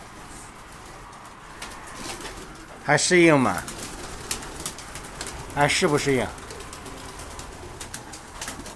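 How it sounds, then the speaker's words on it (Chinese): Young pigeons, moved indoors from a storeroom, give soft low coos and light fluttering close by, while a person talks in short bursts. "这是昨天晚上从仓库里面拿过来的小鸽子啊"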